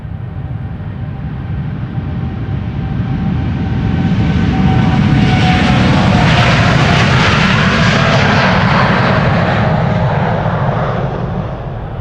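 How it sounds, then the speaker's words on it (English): An Airbus A330 airliner departing at Amsterdam Schiphol Airport, its jet engines producing a loud, broad rumbling roar that swells and holds steady for over ten seconds, close and overpowering. "Lisa, is that the A330 or your belly I hear rumbling?"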